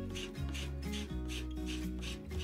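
A card scrapes chalk paint through a farmhouse stencil on a wooden craft piece, giving rhythmic rasping strokes about four times a second, close and soft with no talk.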